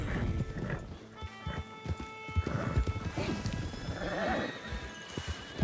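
Horses in the video game Red Dead Redemption 2 gallop with rhythmic clip-clop hoofbeats, snorts and whinnies, fairly quiet, with a voice urging them on in between.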